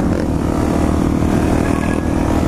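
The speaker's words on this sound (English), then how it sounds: "Some good old wheelies." A motorcycle roars close by at high revs during wheelies, a loud continuous engine drone.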